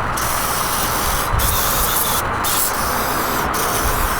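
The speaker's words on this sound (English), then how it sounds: "I am just going to mist on just a little bit of WD-40 in the cylinders" WD-40 sprayed as a fine mist into the cylinders of an engine block being assembled, a continuous steady hiss broken by three brief pauses between short bursts, close and loud.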